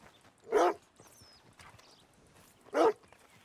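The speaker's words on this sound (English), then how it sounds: "Oh, yeah, they're dogs." Two separate loud barks from American Foxhound dogs in the open-world game Red Dead Redemption 2, spaced about two seconds apart, with soft background ambience between them.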